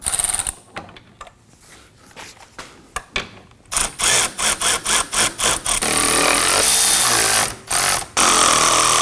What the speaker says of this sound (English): let's go ahead and run these bolts down